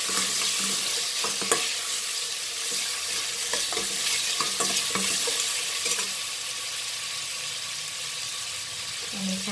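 Pineapple stir-fried in a hot pan, a continuous close sizzle broken by scraping and stirring clatters, with a voice faintly present in the background at times.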